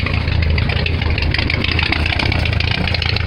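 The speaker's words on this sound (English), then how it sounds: "how does this even idle like that? Like, it's idling at like 300 RPM." An engine idling at very low RPM, around 300, a loud, close, steady low rumble with uneven pulsing throb for the full few seconds, no voices.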